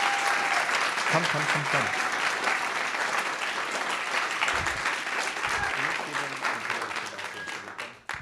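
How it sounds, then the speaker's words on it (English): Sustained audience applause in a symposium hall, steady dense clapping that continues for several seconds and tapers off at the end, with a short spoken word over it. "I want another round of applause for"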